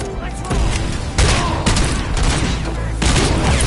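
Grenade blasts and bursts of gunfire ring out in the Robocop Rogue City video game, several loud booming impacts at uneven intervals over dense, rattling shooting.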